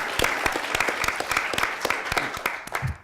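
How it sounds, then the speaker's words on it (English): Audience applause at the Battlecode 2019 final tournament, a steady wash of many hands clapping with sharp individual claps standing out, close and fairly loud throughout. "let's get another round of applause for them."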